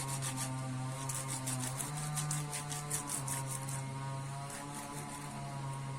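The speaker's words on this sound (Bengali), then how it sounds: "লেবুর পাতাটাও কিন্তু আমি একটুখানি ঘষে নেব" Lemon leaves rubbed by hand for a Bengali raw mango mash give soft, rhythmic scratchy strokes close by for about four seconds over a steady low hum, then only the hum remains; no one speaks.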